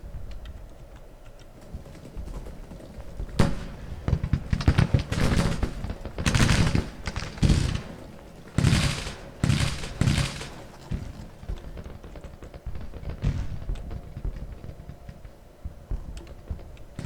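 Troops fire guns in Grand Tactician: Civil War in scattered, crackling volleys, with quick clusters of sharp reports rising and fading over a quiet battlefield bed.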